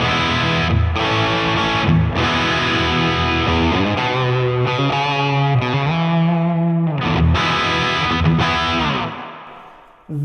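Electric guitar through an Affordaboard Neon Overdrive pedal, controls near noon, strummed chords and riffs with a gritty, saturated crunch and sustained ringing, loud and continuous with brief pauses between phrases, no talking.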